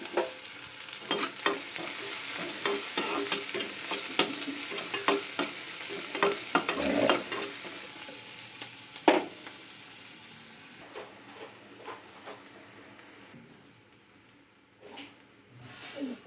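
Onions fry in a pan with a constant sizzle and frequent clacking stirs, fading quieter toward the end.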